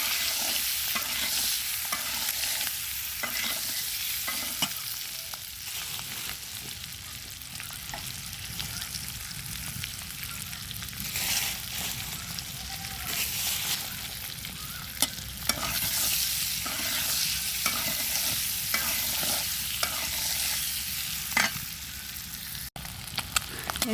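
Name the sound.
eggs frying in hot oil in a pan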